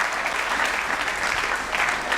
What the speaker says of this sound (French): Est-ce que nous pouvons acclamer très fort pour les...